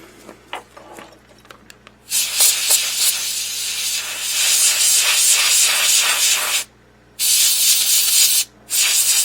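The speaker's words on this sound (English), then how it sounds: "So I'm going to take some airbrush in, some pink on either side." Airbrush spraying pink paint, a loud steady hiss that starts after a couple of seconds of quieter handling noises, runs continuously, then cuts out briefly twice near the end before resuming.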